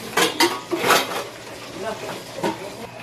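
A lid set onto a hot cooking pot, several metallic clanks and clinks of cookware close by in quick succession, then quieter rattles.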